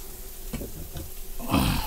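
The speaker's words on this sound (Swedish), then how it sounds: "Det fräsa på någon minut här bara." Creamy curry chicken sizzles on a griddle, a close frying hiss broken by a few soft scraping stirs, then a louder burst of sizzle near the end, with no voices.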